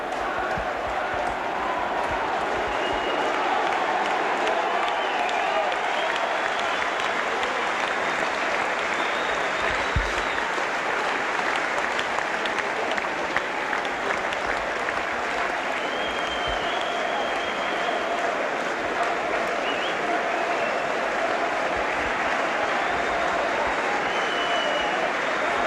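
Warrington rugby league supporters in the main stand applaud their players after a championship final win over Halifax, a long, continuous wash of crowd clapping and murmur, steady and distant across the whole stretch.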